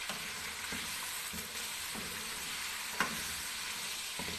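Chicken jalfrezi ingredients with black pepper frying in a pan, a steady close sizzle broken by several soft spoon scrapes and one sharper clack as the mixture is stirred.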